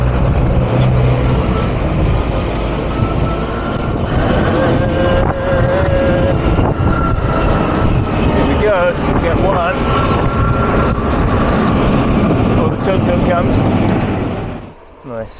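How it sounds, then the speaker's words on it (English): Jeepney engines roar close by amid heavy wind buffeting on a Philippine mountain road, with vehicles revving and rushing past; a voice speaks briefly over the noise. "Jeepneys gunning their engine."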